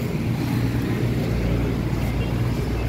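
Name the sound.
Toyota Altis 2017 engine running quietly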